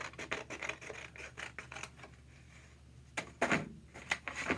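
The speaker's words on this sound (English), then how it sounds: "You're gonna cut on the line." Scissors snip paper along a drawn line during a children's craft lesson, giving a quick run of close, crisp cuts and scrapes followed by a few louder strokes near the end.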